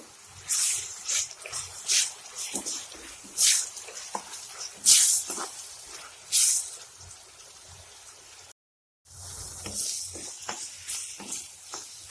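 A ground wet masala paste is sautéed in a pan for a home-style sprouted moth bean curry, producing intermittent bursts of hissing and squelchy stirring separated by quieter pauses and one brief silent gap.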